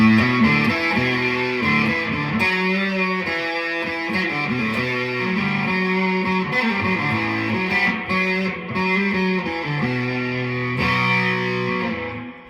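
Electric guitar through a DOD 250 overdrive pedal with an LM351 chip plays chords and single notes with a gritty, distorted tone, steady and fairly loud, with no talking.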